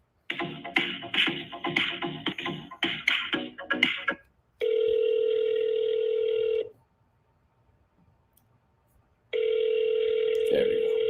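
A desk telephone placing a call: a rapid run of touch-tone dialing beeps, then two long, steady ringback tones separated by a quiet gap, close and clear.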